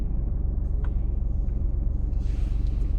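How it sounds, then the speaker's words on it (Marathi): A car pulls away during a driving lesson, its engine a steady low rumble close by that holds throughout, with a brief faint hiss near the end and no talking. "चालली गाडी पुढे"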